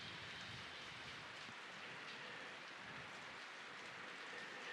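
Rain falls steadily on the island of Kauai, a soft, even hiss of drops on surfaces, faint and continuous with no voices.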